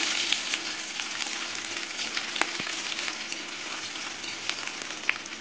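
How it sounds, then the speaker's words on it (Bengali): Chopped onion frying in hot oil with cumin seeds and bay leaf, a soft, steady sizzle with occasional small pops and crackles, and no talking. "পেঁয়াজটা ফোড়নে দিয়ে দেবো"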